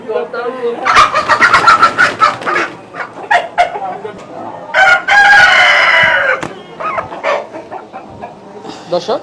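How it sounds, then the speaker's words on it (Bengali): A tiger chicken, about 3.5 kg, squawks and clucks loudly in agitated bursts as it is caught, with a longer strained crowing cry in the middle, up close and frantic. "আমি একটা টাইগার মুরগি ধরছি"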